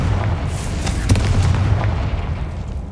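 A Confringo blasting spell going off in Hogwarts Legacy, a heavy booming explosion with a deep rumbling low end, loud and close, fading over a few seconds amid game ambience.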